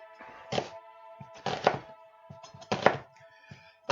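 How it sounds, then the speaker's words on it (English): Knife rough chopping an onion on a chopping board, several sharp thunks arriving in small irregular clusters, close and fairly quiet with no talking. "we can rough chop the onion because it is the quickest thing that'll cook"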